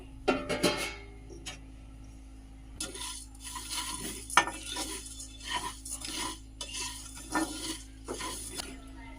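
Chicken pickle masala frying in a pan, a steady soft sizzle with a spoon scraping and clinking against the metal now and then, close up and with no voices.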